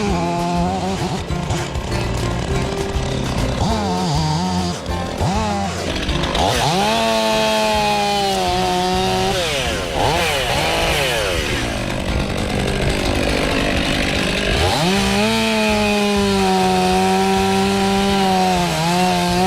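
A chainsaw cuts into a large tree in a forest, engine loud and close throughout, revving up and down in long sweeping pitch swells as the chain bites the wood, with no talk.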